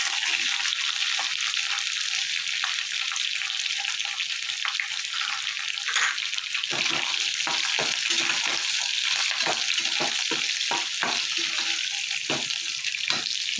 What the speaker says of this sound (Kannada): ಎಣ್ಣೆ ಕಾದ ಮೇಲೆ ನೀಟಾಗಿ ಎಲ್ಲ ಹಾಕಿ ಬಾಡಿಸ್ಕೋಬೇಕು ಒಗ್ಗರಣೆಯಲ್ಲಿ